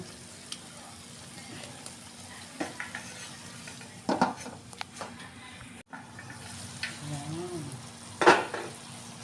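Chicken cooking in its own marinade in a pan, with a soft continuous sizzle under scattered stirring clatters and utensil scrapes, including a couple of sharper knocks, all fairly quiet and close.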